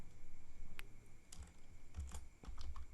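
Keys clack on a computer keyboard, a few quick presses like a Ctrl+S shortcut, light and close against a faint steady hum with no speech.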